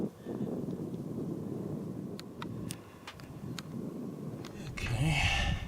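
Wind gusts across the top of a tall fire tower, a steady broadband rush with a few faint clicks and a stronger gust near the end.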